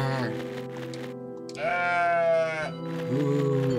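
Rams bleat in the video game OneShot, a run of drawn-out, wavering cries with one louder, higher call in the middle, standing clear without speech.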